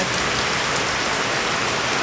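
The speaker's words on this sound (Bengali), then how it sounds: "বাইরে যেন তো প্রচণ্ড বৃষ্টি হচ্ছে" Loud, unbroken roar of heavy rain drumming on a surface, dense and close, with no voices or other sounds.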